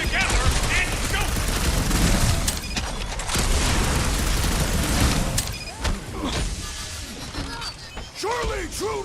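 Weapon fire and explosive booms during a chaotic battle in the Guardians of the Galaxy video game, bursts of shots and crashing impacts layered under overlapping voices shouting throughout.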